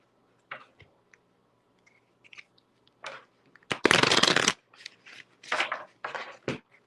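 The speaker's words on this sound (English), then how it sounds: "Let me shuffle really quick, Dipty." Tarot cards are shuffled by hand in short riffling bursts separated by quiet gaps, with one longer, louder flurry in the middle and several brisk ones after it. All of it is close and there is no talk.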